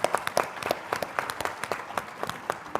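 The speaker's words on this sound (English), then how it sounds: "give her a round of everybody, applause." A small conference audience on a rural task force panel gives a round of applause for Amanda, with sparse, distinct claps forming a light, uneven patter at moderate distance.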